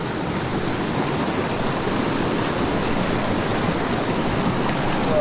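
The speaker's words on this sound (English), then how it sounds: "Water's moving quick." Fast-moving water in a small trout stream rushes in a steady, dense wash with no breaks, close and fairly loud throughout.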